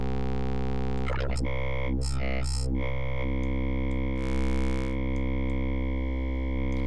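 WaveDuo wavetable synthesizer playing in linear split mode, a sustained buzzy harmonic tone with shifting timbre, short glitchy bursts and sweeps layered over a steady drone, no voices.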